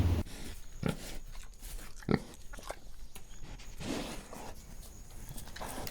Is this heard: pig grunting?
yes